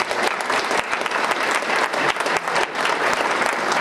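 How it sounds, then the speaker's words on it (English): A room full of people at a political talk gives a sustained round of applause, loud and dense with scattered sharper claps standing out across roughly four seconds. "I want everyone to give this gentleman a round of applause,"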